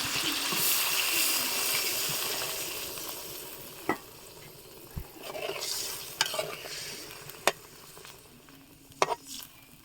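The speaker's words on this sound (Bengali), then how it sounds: "এখন জল দিয়ে দিব।" Fish frying in spice masala in a pan, a close sizzle with spoon scraping and sharp clinks against the pan, and a surge of hissing as water is poured in.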